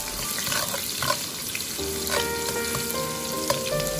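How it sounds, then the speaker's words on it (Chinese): Ginger, garlic and chili stir-fried in hot oil in a heated wok: a bright, continuous sizzle with spatula scrapes and clinks, close up and without speech. "油热之后下入姜蒜、小米辣， 再快速翻炒，炒出香味"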